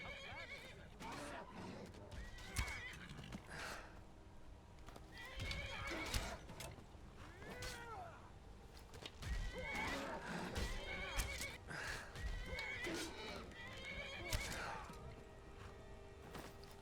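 A horse whinnies several times over rhythmic hoofbeats, with thuds and scuffles mixed in, all sounding like game audio from Skyrim as the horse is attacked.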